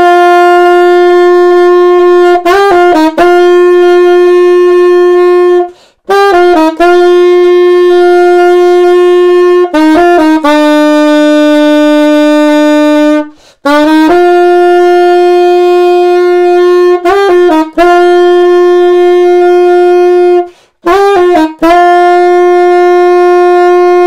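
An alto saxophone plays the bagpipe part of a rock song, holding long sustained notes between quick grace-note flurries in a repeated phrase, loud and close, solo with no talking.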